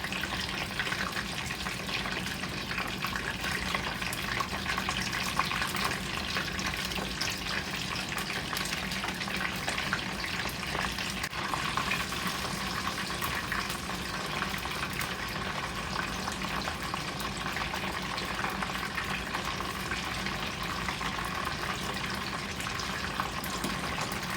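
Spring rolls fry in oil that sizzles and bubbles steadily at a low level, a continuous crackling hiss with no talking.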